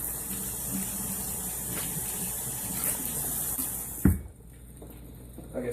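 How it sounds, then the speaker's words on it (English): Tap water runs steadily into a kitchen sink while hands are rinsed, a close continuous splashing hiss that cuts off abruptly near the end with a brief clatter. "Let me rinse off real quick so I can grab my pan."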